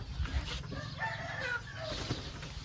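A chicken rooster clucks and calls in a series of short, fairly close squawks over a steady outdoor background hum.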